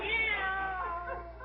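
A cat lets out a single drawn-out meow, clear and fairly close, tapering off over a second and a half.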